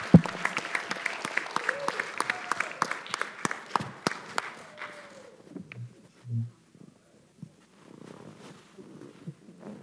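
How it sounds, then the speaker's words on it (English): An audience at an environmental justice congressional convening claps, loud and dense at first, then thinning out and fading after about five seconds into quieter room sounds. "please join me in giving our audience participants another round of applause"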